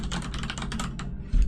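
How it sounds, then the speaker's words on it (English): Rapid, irregular clicking of typing on a computer keyboard, fairly close and steady for over a second before a low thump at the end, with no voices. "clicking at the radio, or clicking at the keyboard."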